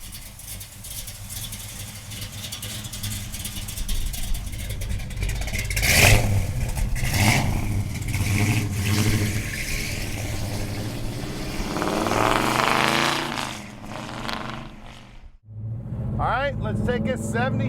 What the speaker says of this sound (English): Let's take a 70 Chevelle for a ride. 4-speed car, guys, and listen to that exhaust.